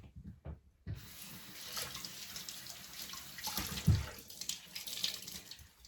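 A kitchen tap running water onto a towel while preparing pork wonton and egg rolls, a steady moderate splashing stream starting after a second and continuing throughout.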